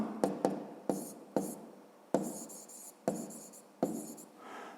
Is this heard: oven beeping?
no